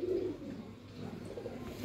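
A young cross-bred high flyer pigeon gives a soft low coo near the start, close and faint over a quiet hum.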